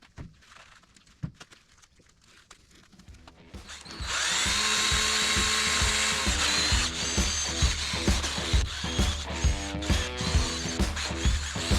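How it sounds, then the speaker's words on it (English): Powered wire brush scrubbing the non-gasket surface of a 5.3 LS Vortec engine block, starting after a few quiet seconds with sparse clicks, then a steady loud whirring grind with rhythmic pulsing, close up and without speech. "We're just going to go to town on the non-gasket surface of this block"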